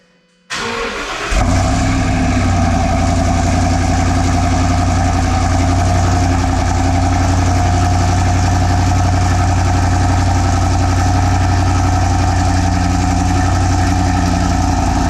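A gasoline-powered garbage truck engine cold-starts with an abrupt catch, then settles into a loud, steady, throbbing idle that runs on without a break.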